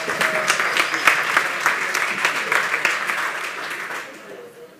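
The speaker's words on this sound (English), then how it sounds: "Round of applause, please, for Arrivado." A round of applause from the audience at a startup pitch event greets the first presenter. The clapping is dense and steady, then fades away near the end.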